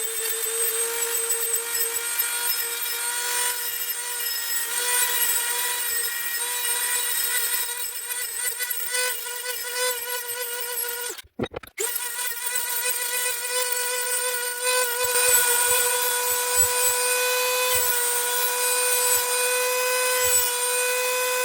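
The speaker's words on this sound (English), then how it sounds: "got a little Dremel, and I'm going to sharpen them teeth up" A small Dremel rotary tool sharpens teeth with a steady, loud high-pitched whine and grinding edge, with a brief cut-out near the middle before the whirring resumes.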